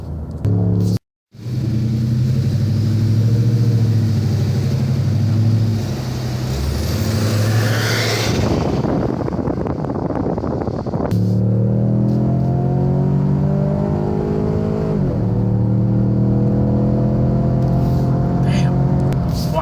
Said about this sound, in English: Watch this pull. That's just that damn turbo doing all of that